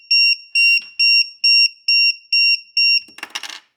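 A lithium battery charger beeps for a low cell, eight sharp evenly spaced high-pitched beeps, loud and close, followed by a brief handling rustle.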